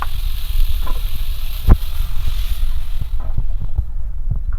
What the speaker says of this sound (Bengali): সবজিগুলো হালকা করে একটু ভেজে নিয়েছি